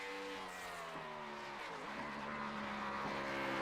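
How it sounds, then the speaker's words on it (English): A race car at Watkins Glen during qualifying, its engine droning steadily as it downshifts through turns, with a few brief rev shifts and tire squeal, fairly distant and continuous. "Lots of downshifting."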